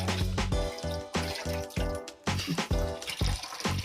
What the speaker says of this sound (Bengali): এবারে ধনেপাতাগুলো ধুয়ে নেব।